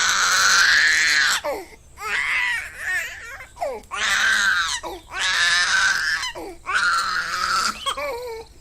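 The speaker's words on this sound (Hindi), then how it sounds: "तभी एक बच्चे की बहुत जोर जोर से रोने की आवाज आने लगी।" A baby cries loudly in repeated wailing bursts separated by brief sobbing breaths, close and insistent throughout.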